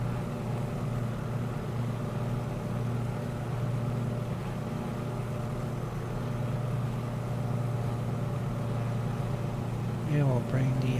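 Twin propeller aircraft engines drone steadily in Microsoft Flight Simulator, with the props pulled back during flight over German scenery. The hum stays continuous and close, and a voice speaks briefly near the end.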